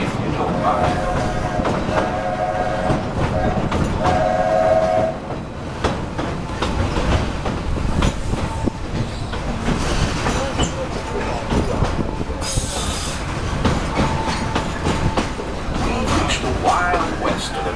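The Magic Kingdom steam train rolling along, with rhythmic clickety-clack and mechanical clatter and a brief hiss, under a narrator's voice.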